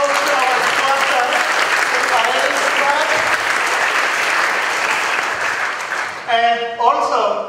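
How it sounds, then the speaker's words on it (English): An audience applauds steadily for several seconds at a community gathering, dense and sustained clapping, then fades as a voice begins speaking. "Let's give a big round of applause to our sponsors."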